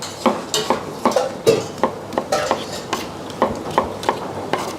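Large chunks of squash and softened onions being stirred with a spatula in a pot for soup, with repeated scraping and clinking strokes in an irregular rhythm and a low sizzle underneath, close and fairly loud.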